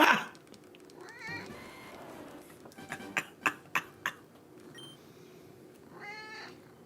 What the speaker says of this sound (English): Do you guys hear him meowing?